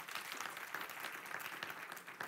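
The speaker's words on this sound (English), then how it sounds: "We'll give him a round of applause" Applause from a church congregation at a Sunday morning worship service, a steady patter of many hands clapping for a little over two seconds at even loudness.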